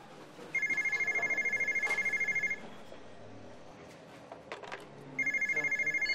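A telephone rings indoors with two bursts of rapid electronic trilling, separated by a pause filled with faint background shuffling, heard fairly close.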